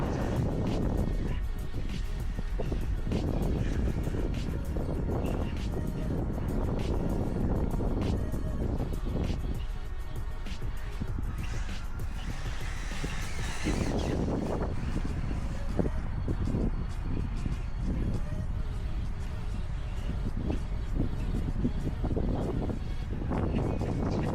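A TLR-tuned Arrma Typhon RC buggy drives on a dirt track, its motor whine steady and loud throughout, mixed with wind buffeting, tire and gravel noise, and a brief swell of high hiss midway.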